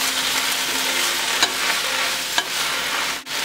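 Kale and butternut squash with a little red pepper saute in a pan, giving a steady, close sizzle with a couple of brief stirring clacks and a short dip near the end.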